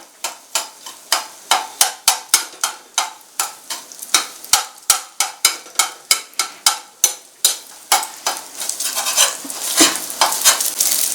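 Egg frying in oil for chicken fried rice, broken up with quick rhythmic spatula strikes against the pan over a constant sizzle, the strokes turning faster and more continuous toward the end.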